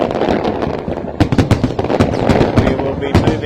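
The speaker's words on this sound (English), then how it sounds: "particularly with this firework display" Lunar New Year fireworks over Hong Kong burst in a rapid, crackling string of loud booms and pops, dense and continuous over a rumbling crowd murmur.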